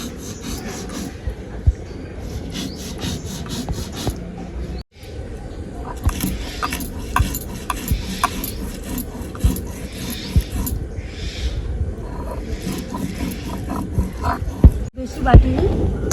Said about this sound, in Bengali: আতপ চালটাকে আমি আধ বাটা করে বেটে নিব আগে থেকে ভিজিয়ে রেখেছিলাম